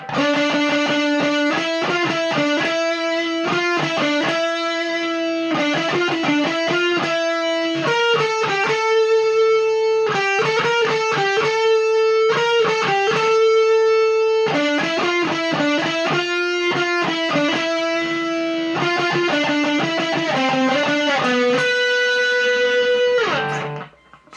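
Heavily distorted electric guitar plays a riff, a fast run of picked notes in a steady, driving rhythm that stays loud and close before cutting off abruptly at the end.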